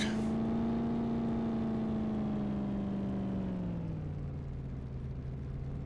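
A truck engine in Farming Simulator 17 hums steadily and loudly throughout, its pitch easing slightly lower toward the end as it slows, with no talking over it.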